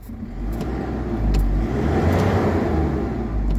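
Isuzu D-Max diesel pickup engine being revved, a steady loud low rumble that rises and holds through the whole stretch, close by with no talking.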